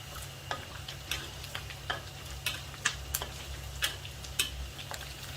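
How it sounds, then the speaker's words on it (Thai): Pork belly skin crackles as it pan-roasts in hot oil, giving off an irregular run of sharp, close pops and ticks over a steady low sizzle, with no talking. "ได้ยินเสียงหนังเขาแตกก็แป๊กก็แป๊แบบนี้ค่ะ"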